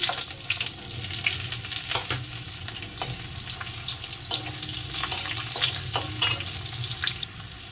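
Chopped onion frying in oil with bay leaf, cloves, cardamom, cinnamon, dried chilli and cumin, a continuous close sizzle with intermittent stirring scrapes and clinks of a spatula against the pan.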